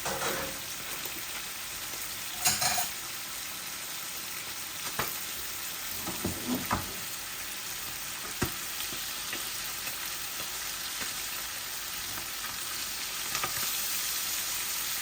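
Koi fish fry in a pan with a continuous, even sizzle filling the whole stretch, punctuated by occasional louder pops and clinks from stirring, close and steady with no talk.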